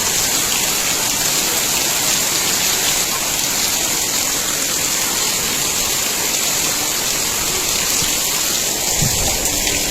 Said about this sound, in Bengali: এখন থেকে হঠাৎ করে বৃষ্টি নামলো